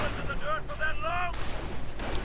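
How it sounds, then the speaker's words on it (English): Machine-gun fire from a Sturmgeschütz assault gun in a real-time strategy battle, with steady booming gunfire and explosions under a commentator's continuous talk. "the riflemen are getting absolutely torn up by the MG on the Sturmgeschütz"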